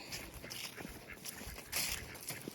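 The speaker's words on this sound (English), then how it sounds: "There's 2 ducks." Ducks on open water let out several short, scattered quacks and calls at moderate distance, mixed with light outdoor background noise.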